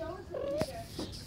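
A cat yowls and snarls during a scuffle, a short rising cry with a sharp hiss-like burst, fairly faint and mixed with background voices.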